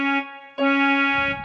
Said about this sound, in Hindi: आप सुन पा रहे हो कि हारमोनियम तो प्ले हो ही रहा है पर इसके उसके साथ पियानो भी प्ले